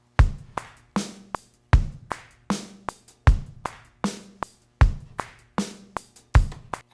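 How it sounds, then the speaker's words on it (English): Programmed drums from Logic's Auto Drummer, including a hi-hat pattern, play a steady, evenly spaced beat of punchy kick and snare hits with crisp cymbal ticks between them, dry and close, with no one talking. "And so after that, the drums all together sound like this."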